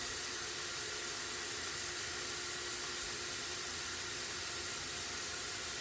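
Tap water running steadily over shrimp being rinsed for a beef and shrimp stir fry, a constant even hiss with no breaks, close and fairly quiet.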